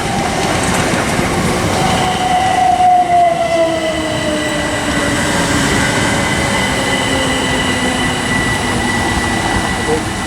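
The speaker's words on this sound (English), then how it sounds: "Arriving now is the 10:52 Southern service from Milton Keynes Central to East Croydon, formed of 377." A Southern Class 377 electric train, unit 377201 on the 10:52 Milton Keynes Central to East Croydon service, pulls into Watford Junction with a loud steady rumble and long, gradually falling wheel squeals.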